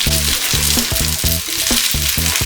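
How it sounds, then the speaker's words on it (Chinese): Rice with egg and mullet roe is stir-fried in a non-stick Miji wok, a close sizzling hiss over a rapid, regular series of tonal beeping pulses, with quick tossing scrapes. "翻炒一下"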